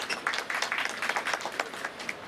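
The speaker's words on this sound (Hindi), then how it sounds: "तालियों से स्वागत कीजिए आप।" Audience applause at an Indian media awards ceremony greets a singer, a short burst of dense, fairly close clapping without speech.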